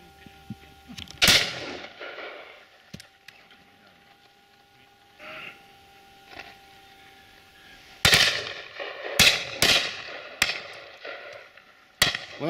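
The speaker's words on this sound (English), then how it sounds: "Well shot, Shaky." Shotgun fire at a partridge shoot in open country, a series of loud sharp reports, some single and some in quick pairs, with quieter distant shots between.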